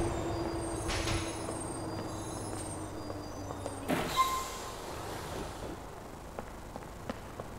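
A train rolls through a city in GTA IV, a low rumbling hum with a brief clatter before cutting off, followed by faint footsteps and small ambient ticks, no talk.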